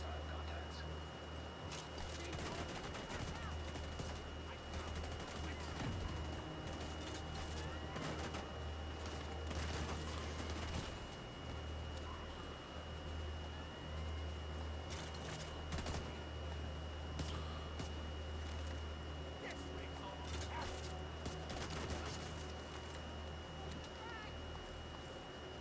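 Pistol shots from The Division 2 pop repeatedly among busy gunfire and game noise, with someone talking over the shooting.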